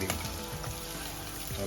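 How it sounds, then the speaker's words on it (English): Onion and green chili frying in a pan with fennel seeds, cloves, cinnamon sticks and bay leaves, giving a steady close sizzle with faint stirring, no talking. "As the onion and chili are getting fried, first we put the fennel seeds, the cloves and the cinnamon sticks and the bay leaves."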